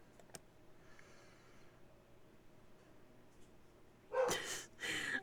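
A dog in a video game gives two short bursts of barking near the end, loud against an otherwise quiet, faintly humming background after a single click early on.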